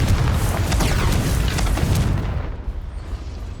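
Confringo fire spell in Hogwarts Legacy, a loud booming blast with crackling debris filling the first two seconds before fading into a rumbling tail.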